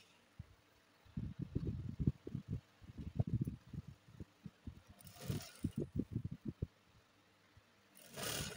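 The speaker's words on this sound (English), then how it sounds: "Just go ahead and sew down the hem of the dress." Sewing machine stitching down the hem of a circle cape bubu gown, sounding in short rapid whirring bursts separated by brief pauses, close and fairly quiet.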